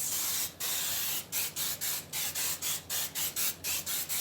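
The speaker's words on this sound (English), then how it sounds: "I'm gonna spray this on my hair." Creme of Nature argan oil spray misted onto hair: one long hiss, then a rapid series of about a dozen short, evenly spaced spray bursts, close and fairly soft, with no talking.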